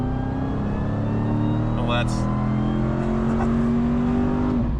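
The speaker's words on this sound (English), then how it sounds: "But now getting on the highway, I can actually floor it to merge." A 392 Hemi V8 Jeep Wrangler floored to merge onto a highway, its engine roaring loud and steady with rising revs throughout, a trailer in tow, and a brief exclamation from the driver.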